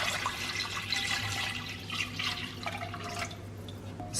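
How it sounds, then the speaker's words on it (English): About a litre of water is poured into a pot of vegan garlic and onion soup, a splashing, trickling pour with liquid gurgles, moderately close and unaccompanied by talk. "Now I'm gonna add about a litre of water."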